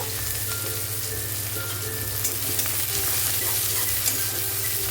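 Chopped onions fry with cumin seeds in hot oil in a wok, a steady dense sizzle with occasional stirring scrapes, close and continuous throughout with no talking.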